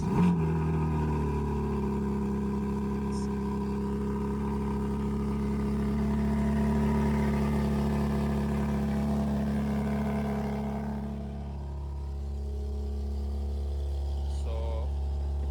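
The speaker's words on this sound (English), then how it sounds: "So this is remote engine start, as you can see." A BMW engine fires up by remote start and settles into a steady, low idle hum, close and continuous, the tone dipping briefly near the end as it settles, with no talking over it.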